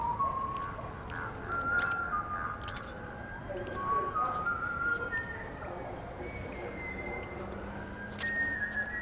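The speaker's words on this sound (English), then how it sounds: "Do you hear whistling?" A whistled tune in Metal Gear Solid 4, thin, high, wavering notes coming in short phrases, moderately faint over a busy background of game noise and scattered clicks.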